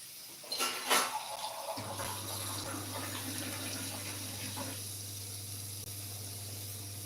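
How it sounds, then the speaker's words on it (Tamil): Water poured into a pot of cooking vegetables on the stove, a brief splashing pour followed by a steady hiss and simmer, close and moderately loud, with no voices. "இப்போ தண்ணி கொஞ்சம் ஊற்றிடலாம் காய் வேகிறதுக்கு தண்ணி வேணும்"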